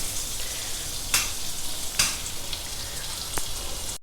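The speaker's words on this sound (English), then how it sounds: "first heat a teaspoon of butter in a pan" A teaspoon of butter heats in a pan with a steady, close sizzle and a few sharp pops and crackles breaking through the even hiss; no one speaks.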